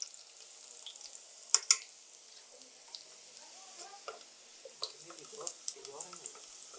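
Ginger and garlic fry in hot oil as the base for mie ayam, giving a soft, steady sizzle with scattered light pops and spatters. The sound is faint and close, with a few clearer crackles along the way.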